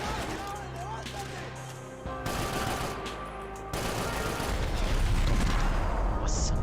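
Gunfire in the video game Max Payne 3, bursts of shots and automatic fire layered over game music and effects, growing louder and denser toward the end, with talk mixed in.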